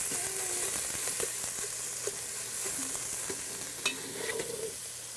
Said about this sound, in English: in our meat sauce, we're going to add our meat. And let that cook down too.